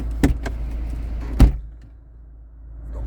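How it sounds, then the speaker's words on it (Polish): A Volvo V40 D3 R-Design car door shuts with a sharp, loud thud near the middle, after an earlier lighter knock, followed by quiet cabin hum. "tu musimy chyba zamknąć drzwi."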